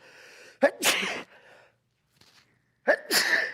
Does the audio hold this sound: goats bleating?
no